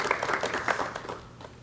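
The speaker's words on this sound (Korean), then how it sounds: "여러분 박수로 맞이해 주시면 대단히 고맙습니다." A 1986 KBS studio audience briefly claps to welcome a veteran athletics head coach, a soft, scattered patter of applause that fades out over under two seconds.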